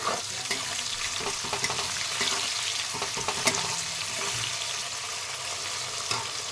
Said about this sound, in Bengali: ভালো করে সব পেঁয়াজগুলোকে নাড়িয়ে নেব।